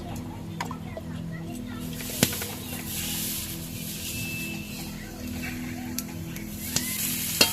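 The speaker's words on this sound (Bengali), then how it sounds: "টকে প্রথম 5 ফোড়ন দেবো, তারপরে একটু তেল দেবো" Panch phoron, a five-spice tempering, sizzles in hot oil in a village home kitchen, a steady crackling hiss throughout with occasional clinks of a utensil and faint background activity.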